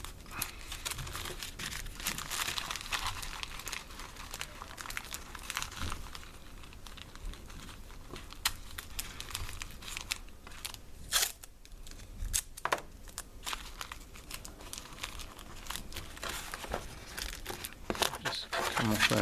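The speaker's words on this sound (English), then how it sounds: "this will tear quite easily as well, so it's easy to work with" Masking tape is torn and crinkled by hand during mask construction, with close, quiet rips and crackles scattered across the clip alongside rustling handling.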